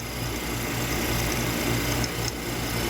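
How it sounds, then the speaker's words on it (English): Vacuum pump pulling vacuum on the A/C system of a 1990 Ford F Super Duty diesel conversion truck, a steady close mechanical drone with a fast buzzing rattle, running alone without talk. "We've had the vacuum pump running for about an hour and a half."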